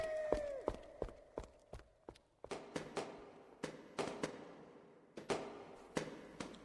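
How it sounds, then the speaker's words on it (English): Sharp, repeated gunshot-like cracks in an audio drama set near dungeons, about a dozen irregular bangs with decaying tails over a faint background tone, no talk. "Is that someone shooting?"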